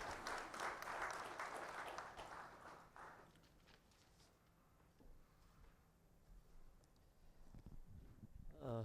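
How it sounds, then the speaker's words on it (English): A crowd at a banking and financial sector awards summit claps loudly for a few seconds, then the applause fades to scattered clapping and a quiet room, with handling noise at the end. "And I would like everyone to give a huge round of applause to Sri Rajkiran Rai ji."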